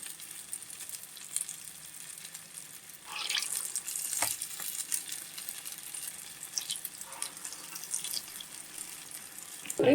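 Purnam boorelu, stuffed Telugu dumplings, frying in hot oil: a steady, hissing sizzle that rises and crackles more loudly midway as fresh pieces drop in, close and continuous with no talk.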